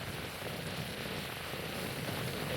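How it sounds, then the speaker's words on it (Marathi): A village stream flows downhill in a steady, even rush of water, a soft broadband wash with no pauses or distinct splashes. "बघू शकता कसं काय पाणी भरपूर येतं इकडं."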